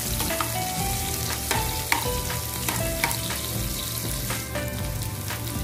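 Chopped onion and garlic sizzle loudly in hot oil in a pan, a steady frying hiss with occasional scraping stirs, close and continuous with no talk.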